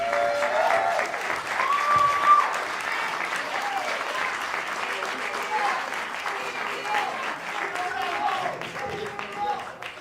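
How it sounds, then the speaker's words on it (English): An audience at a Buffalo mayoral candidates' debate applauds steadily with scattered cheers and whoops throughout, a dense wash of clapping that holds for the whole stretch. "now you can cheer."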